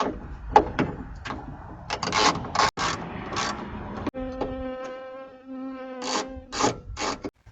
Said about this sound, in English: Let's take these off using our 10mm socket.